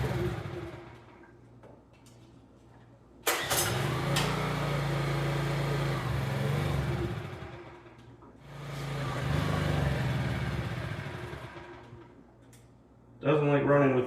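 A Honda EX650 generator engine runs on choke in two long loud surges with a steady low drone, quieter idling between and a brief burst at the end; speech is also present.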